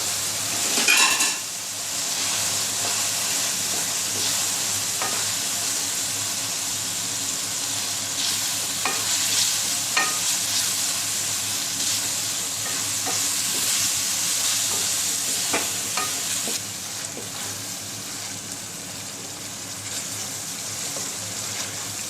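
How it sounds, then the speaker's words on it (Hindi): Potato and capsicum roast in a pan with red chilli, salt and turmeric, giving a steady, close sizzle throughout with scattered scraping and clinks of a spoon stirring the spices. "मसाले को अच्छे तरीके से आप भूनिए।"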